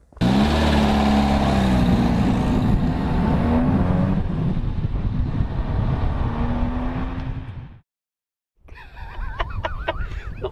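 A Volvo PV544 drives past with a loud, rising and falling engine drone that stays close for several seconds, then cuts to brief silence before a fainter stretch of mixed noise.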